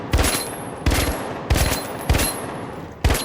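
Burst-fire gunshots from a weapon in The Finals, a first-person shooter, ring out in five sharp, evenly spaced bursts, each a loud crack with a brief ringing tail, with no talking.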